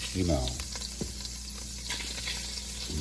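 Shrimp hit a hot pan for jambalaya, a steady close sizzle and frying hiss with a few light clinks and stirring scrapes, strongest in the first half second.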